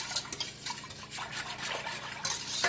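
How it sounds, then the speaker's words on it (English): A whisk stirs coconut milk in a pot or bowl to break up lumps, with quick wet scraping and sloshing strokes that come in uneven bursts and are heard up close. "whisk it up to get any of the lumps out of the coconut milk"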